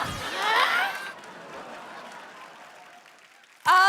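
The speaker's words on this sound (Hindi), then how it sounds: "कितनी सारी तालियां बज रही मैडम।" A studio audience at an Indian TV comedy show claps in a steady, moderate wash after a brief burst of voices, continuing for a few seconds before a loud voice cuts in at the end.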